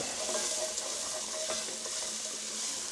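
Onions and carrots fry in a pan with browned bits on the bottom, a quiet, even sizzle with light stirring scrapes, heard close and without talk.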